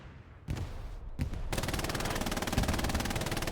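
Machine gun fire in the World War II game Hell Let Loose on the Hürtgenwald map, a few isolated shots then a sustained rapid automatic burst, loud and rhythmic, with no talk over it.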